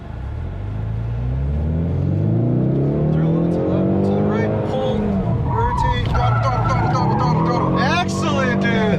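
A 2024 Ford Mustang GT V8 is flung into a handbrake drift, its engine rumble rising under throttle as the revs build, with tire squeal breaking through near the end.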